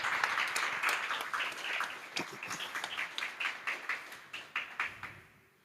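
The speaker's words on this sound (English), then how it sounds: "So I wanted to give the coaches a round of applause again," Applause for coaches at a primary schools' football tournament press briefing, a small group clapping in a fairly close, uneven patter that settles into slower scattered claps and fades out.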